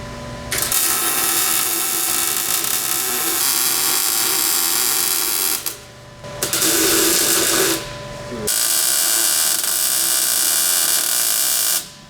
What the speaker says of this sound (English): All right, let's weld it. Yeah, let's weld her in there.